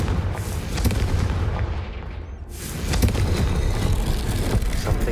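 A Confringo spell explosion in the Hogwarts Legacy video game bursts as a loud, booming blast, followed by a rumbling roar that swells again and carries on to the end.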